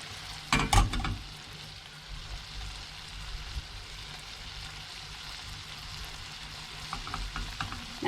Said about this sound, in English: I'm just going to leave it here on the stove and whisk it all in here.